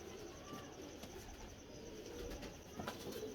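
Fancy breeding pigeons coo softly in a loft setup. The low, repeated calls sit under steady background noise and stay faint throughout.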